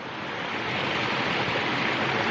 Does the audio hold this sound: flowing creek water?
yes